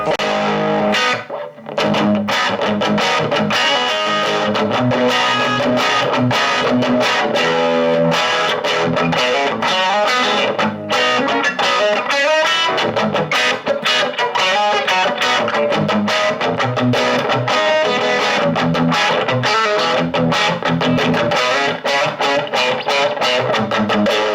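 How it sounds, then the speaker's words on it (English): A distorted electric guitar plays loud, continuous crunchy chords and riffs through an Acoustic Solutions JE50 budget 50-watt amp, thick and saturated for the whole stretch. "So let's hear what that sounds like with some distortion."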